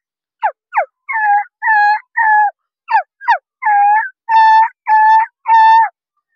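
A voice mimics a puppy with a string of short yelps followed by longer whiny whimpers, close up and fairly loud, repeated in quick bursts.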